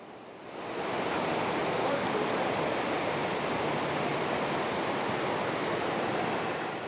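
Waterfall of water spilling over a dam on Middle Creek, a broad steady rushing roar that swells in within the first second and then holds constant, fairly loud and close, with no voices.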